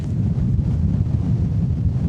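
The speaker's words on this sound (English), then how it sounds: "I don't know what's happening with this gust right now" A gust of wind buffets the microphone on a disc golf course, a continuous low roar and rumble with no talking.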